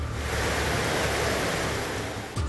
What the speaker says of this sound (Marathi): सांगली जिल्ह्यामध्ये दुपारपासून धुवाधार पाऊस बरसतोय।